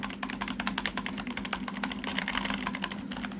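Fingers type rapidly on an old, seven-year-old computer keyboard, producing a dense stream of quick plastic key clicks and clacks, close up and steady with no voices.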